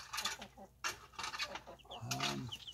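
Week-old chicks hatched at home, small fowl giving soft clucks and peeps close by, with a faint murmur of voices under the calls.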